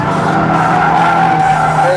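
A car's tires squeal continuously as it slides in a drift, engine droning loudly underneath, steady and close throughout.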